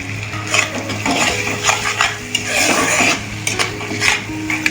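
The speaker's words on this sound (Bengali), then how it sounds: "মশলাটা একটু নাড়িয়ে চাড়িয়ে দিয়ে দেবো কড়াইশুঁটিগুলো।" Spice paste and green peas stirred in a wok for a cauliflower curry, with a metal spoon scraping and clinking against the pan in an irregular rhythm over a faint sizzle, close and moderately loud, no talking.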